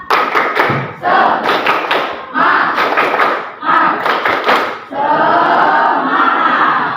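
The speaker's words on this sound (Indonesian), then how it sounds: "Tepuk semangat." A school class performs tepuk semangat spirit clapping, loud bursts of rhythmic group claps and thumps in short patterned phrases mixed with children chanting together, ending in a stretch of voices.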